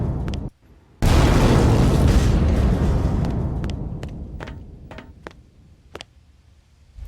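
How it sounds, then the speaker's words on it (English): A loud, deep film explosion booms after a brief quiet gap, then rolls off into a long echoing reverb tail, with sharp clicks and ticks dotted through the fading decay. "that crazy booming, echoing reverb"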